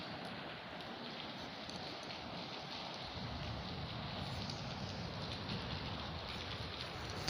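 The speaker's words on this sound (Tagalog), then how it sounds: "lakas kasi buhos ng ulan buhos na buhos eh" Heavy rain pours down in Manila in a dense, steady roar that stays constant throughout, with no voices.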